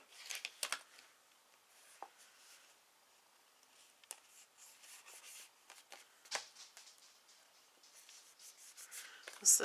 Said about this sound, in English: And then I'm going to emboss this.